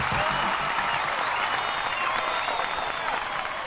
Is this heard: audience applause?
yes